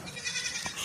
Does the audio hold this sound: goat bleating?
yes